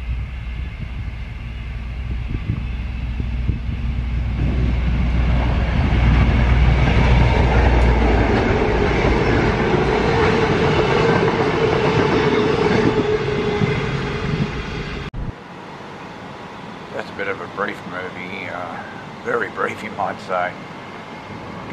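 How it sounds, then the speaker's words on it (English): A passenger train on the Rosewood to Ipswich line roars past close by, with a loud, steady rumble for about fifteen seconds before things drop to a quieter scene where someone talks. "Anyway, here comes that train."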